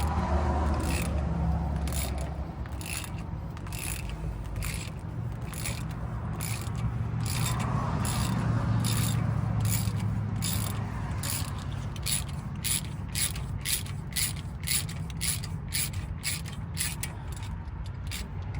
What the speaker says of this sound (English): you're just gonna thread the hole, and then we'll end up threading the helicoil in and tapping off the end